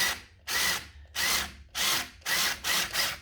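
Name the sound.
power drill tapping a thread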